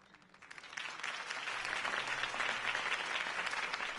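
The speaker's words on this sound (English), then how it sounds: "could have heard that applause" In-game applause in a PS4 video game: a crowd bursts into sustained applause, swelling after the first half-second and holding steady, dense clapping with no voices standing out.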